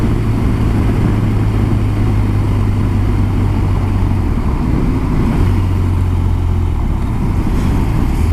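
A minivan engine drones steadily as it accelerates to race in traffic, a loud, constant low rumble with a humming tone that holds, drops out briefly and returns.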